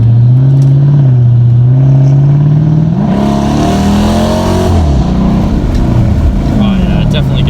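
A 2010 Dodge Challenger R/T engine drones loudly up close, then its pitch shifts and climbs as it accelerates after a delayed downshift. A person talks over it at times.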